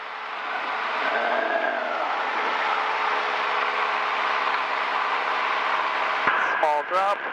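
A light aircraft engine held at steady high revs during a magneto check run-up, a continuous droning roar with a slight dip in pitch partway through, then a clunk and short chirping sounds at the end.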